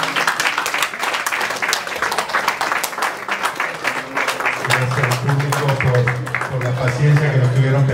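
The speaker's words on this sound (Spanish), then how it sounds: "un aplauso para ellos" Applause at a doubles tournament awards ceremony for referees and maintenance staff, scattered clapping from a modest crowd with voices talking over it and a low hum joining partway.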